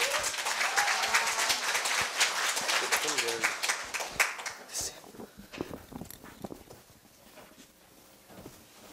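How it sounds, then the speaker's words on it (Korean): Applause from an audience at a middle school students' speaking festival at Korea University, loud and dense at first, then thinning into scattered claps, with talk over it and after it. "다들 큰 박수로 맞이해주세요"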